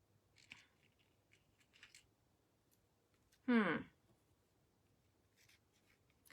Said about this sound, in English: We might need to trim it down a little bit so it's a bit shorter.